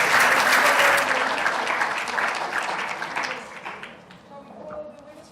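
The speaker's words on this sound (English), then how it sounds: "A round of applause for Mr. Patti." Conference audience at an international convention's awards presentation claps loudly and evenly, the applause gradually tapering off over several seconds as faint voices emerge.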